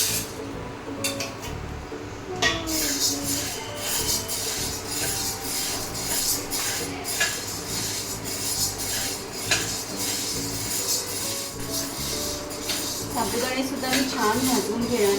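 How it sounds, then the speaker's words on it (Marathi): Sago pearls dry-roasting in a pan, with continuous scraping and rattling from the stirring utensil and frequent metallic clinks, fairly close and steady for the whole stretch, a voice heard faintly underneath. "आता मी हे साबुदाणे घेतलेले आहेत ते भाजून"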